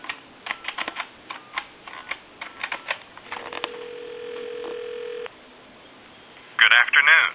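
Western Electric Trimline telephone being dialed: a run of quick clicky keypresses, then a steady dial-type tone for about two seconds, a brief pause, and a loud warbling ring tone at the end.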